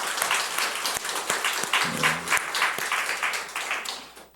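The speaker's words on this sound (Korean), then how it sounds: "우리 한번 격려의 박수로" A church congregation gives warm applause of encouragement during a Sunday service. The clapping is steady and moderately loud, with a few sharper individual claps, and it fades toward the end.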